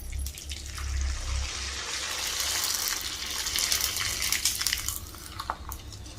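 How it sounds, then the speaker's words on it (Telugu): Sago tomato vadiyalu drop into hot frying oil, setting off a steady, close sizzling hiss with scattered crackles and pops. "ఆయిల్ వేడెక్కిందండి, వేస్తున్నా."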